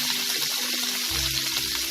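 Long-cut cauliflower pieces frying in hot oil with a pinch of turmeric, giving a steady, close sizzle with a soft low bump partway through.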